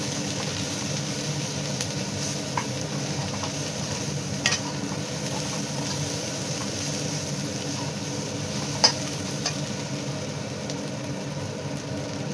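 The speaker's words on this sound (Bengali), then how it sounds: "একটু নাড়াচাড়া করে নেব" Spices with Kashmiri chili stirred in a pan, a continuous soft frying hiss with occasional faint spoon scrapes and a brief clink, close and low in level.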